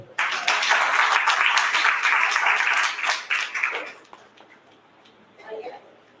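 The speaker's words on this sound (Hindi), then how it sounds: "तालियां बजाकर बोलो" Church congregation at a Hindi-language service claps together, loud and fairly rhythmic for about four seconds, then fades to quiet, with a brief voice toward the end.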